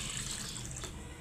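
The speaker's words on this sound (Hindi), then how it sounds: "फिर इसके अंदर डालते हैं पानी, जैसे बनाते हैं घोटा।" Water poured from a tap or jug into ground almonds to make almond sharbat, a steady close splashing rush filling the whole clip with no talk.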